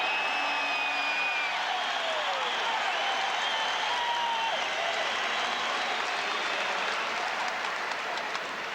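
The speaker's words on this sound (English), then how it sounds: "Williams with a nice ovation here from the crowd." Crowd ovation at a 1985 NBA playoff basketball game between the Celtics and Pistons: sustained, even applause from a large arena audience, steady throughout with faint whistles above it.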